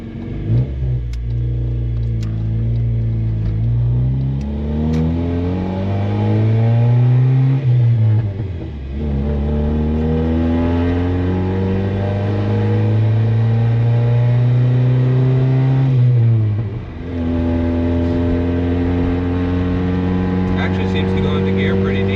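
A 1999 Honda Civic with a swapped-in 5-speed manual revs up through the gears, engine pitch climbing in repeated sweeps with short drops between shifts, loud and close.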